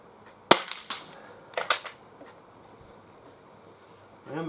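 Umarex break-barrel Mini Uzi air gun pellets striking a steel sheet about 35 yards away: a few sharp metallic pings and cracks, two in quick succession then a tighter cluster, with quiet gaps between.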